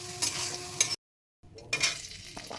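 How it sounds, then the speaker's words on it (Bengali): Green beans frying in hot oil with salt give a steady close sizzle, with stirring scrapes and clinks from the pan, cut by a brief silent gap before the frying resumes. "লবণ দিয়ে এখন বিনসটা ভাজা হচ্ছে"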